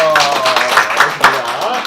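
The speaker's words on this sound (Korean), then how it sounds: "박수" Guests at a small child's first birthday party in a hotel clap in short, uneven bursts, with voices and chatter mixed in throughout the brief moment.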